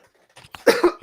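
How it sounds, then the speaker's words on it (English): A person coughs a couple of times close to the microphone during a live stream, short rough bursts after a brief throat sound, in otherwise quiet surroundings. "I don't know why every time I start streaming is when I end up needing to cough."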